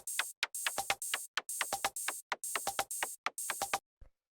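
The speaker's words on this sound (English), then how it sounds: "So the first layer is just this little electronic percussion." Little electronic percussion layer from a Bristol-style techno track, dry clicky ticks and short pops in a tight repeating syncopated pattern, crisp and solo, ending with a fading final hit.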